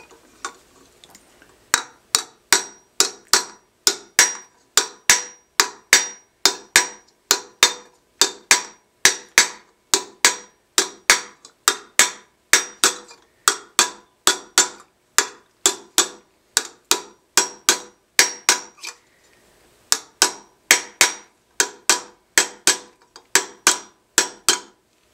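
Hammer blows ring out on a copper vessel being raised into a beaker shape over a stake, a long steady run of sharp, bright metallic strikes at an even rhythm, close and loud, with a brief pause near the end and no talk.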